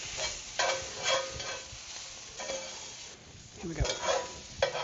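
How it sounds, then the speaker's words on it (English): Vegetables for japchae sauté in a hot pan with a constant sizzle, punctuated by repeated scraping stirs and a few clinks of utensil against the pan. "while you're sautéing these vegetables, you should put a pinch of salt"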